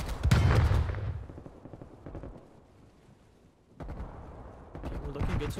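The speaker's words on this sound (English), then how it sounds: "We have all of them shooting at everything over there." Distant gunfire in a prop hunt video game, heard as bursts of rapid shots: a loud volley at the start, a quieter lull, then more firing toward the end, with speech-like sound mixed in.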